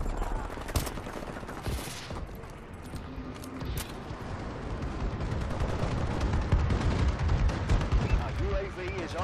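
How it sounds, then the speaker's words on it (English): Explosions and heavy gunfire from an enemy bombing-run airstrike in Call of Duty: Advanced Warfare multiplayer on PS4, dense and continuous with booming low impacts building toward the end, with voices talking over it. "Enemy bombing run overhead."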